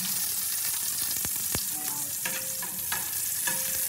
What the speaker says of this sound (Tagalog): lagay na natin yung bawang. Igisa na natin siya.